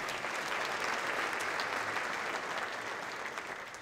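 Audience applause at a Chamber of Commerce annual meeting in Oro Valley, a dense steady clapping from a large crowd that holds strong throughout and tapers only slightly near the end.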